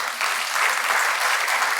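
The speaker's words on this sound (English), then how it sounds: "We can give him a great applause." Audience at an Atal Bihari Vajpayee memorial lecture on democracy and peace in the Maldives giving a burst of applause, a brief dense wash of clapping from a crowded hall.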